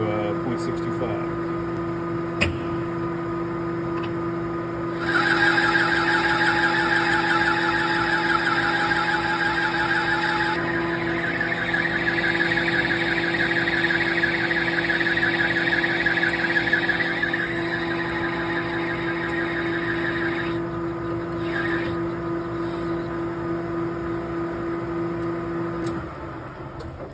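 Lathe running steadily while turning a 1-inch brass bar down for a shift knob adapter, constant motor hum with a brighter cutting whine rising partway through, close and continuous.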